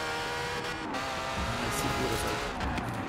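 A fast car in Forza Horizon 4 drives with a steady engine drone and tire noise, the engine note rising slightly as it accelerates, with a voice talking over it.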